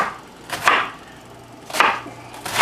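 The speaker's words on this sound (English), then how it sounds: "I'm going to start chopping this up like this long." A knife chops through cabbage on a board in several crisp, close strokes, spaced roughly a second apart, with quiet pauses between them.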